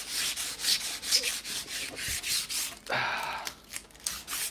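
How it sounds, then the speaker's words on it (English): Rubbing a painted board to knock down lumps and ridges of acrylic paint, a steady rhythmic scratchy scrub of about a dozen close strokes, ending in a brief harder rasping burst. "I rub all the lumps away."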